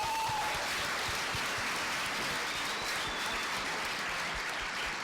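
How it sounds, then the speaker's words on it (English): An audience at an information technology executive forum gives a panel a steady, full round of applause, dense and continuous clapping filling the room throughout. "So let's give them a big round of applause."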